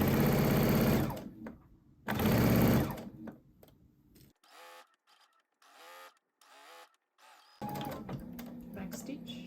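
A domestic sewing machine stitches fabric in two loud bursts of rapid whirring, then quieter short runs and pauses, with someone speaking in between and the motor resuming near the end.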